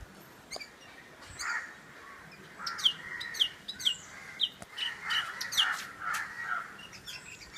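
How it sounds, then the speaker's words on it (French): A wild bird in Kerala, India, sings a series of bright chirps and warbled phrases, fairly near, with outdoor ambience and occasional sharper calls mixed in. "Il est quand même drôlement beau le chant de l'oiseau"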